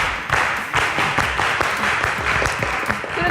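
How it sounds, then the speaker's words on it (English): An audience at a high school quiz competition applauds the Crescent International High School team, producing dense, fairly loud clapping that continues steadily throughout, with no speech over it. "Please give them a champ round of applause."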